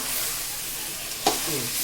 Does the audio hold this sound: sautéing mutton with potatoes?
yes